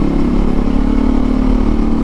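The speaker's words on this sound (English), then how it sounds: "I just want to hear the rumble of this exhaust" A KTM 390 Adventure motorcycle with a modified exhaust rumbling steadily at idle, a loud, close, continuous throaty drone with no speech over it.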